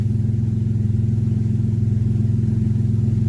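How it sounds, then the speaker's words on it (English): A BMW E46 engine with a broken crankcase breather hose idling steadily up close, a low rhythmic rumble with an even pulse and no revving. "So it's idling perfect with that breather hose broken."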